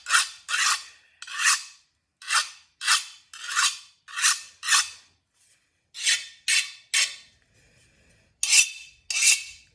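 Rhythmic rasping strokes of a file scraping across a hardened steel short sword blade, about fifteen short harsh passes with brief pauses between, close and fairly loud.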